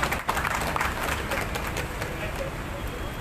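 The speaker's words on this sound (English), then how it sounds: "Let's give the big applause for their full team on stage." A crowd at the inauguration of a new traffic signal technology applauds a team on stage, a steady, moderately loud wash of clapping with some crowd murmur mixed in and no distinct words.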